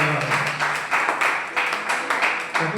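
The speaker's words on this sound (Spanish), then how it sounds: "Hoy es bueno que le aplauda al Señor" A church congregation claps together during a Sunday service, steady rhythmic clapping at an even beat, moderately loud and continuous.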